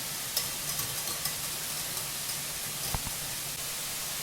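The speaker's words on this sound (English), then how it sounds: "Mix it well." Carrot halwa is stirred in a bowl, giving faint, soft scraping with light irregular taps of the spoon against a quiet hiss.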